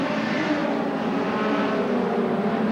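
Hot rod race cars roar past on an oval track at the 1985–1986 Hot Rod World Finals, a loud, continuous engine drone with a slightly rising pitch as the cars pass close by, with no voices.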